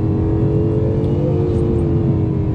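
A 2020 Acura NSX hybrid supercar hums and pulls steadily from inside the cabin, a loud continuous engine drone without clear breaks, no voices heard.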